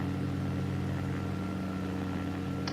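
An aircraft engine in the X-Plane 11 flight simulator produces a steady, low droning hum that stays even and unbroken from start to finish.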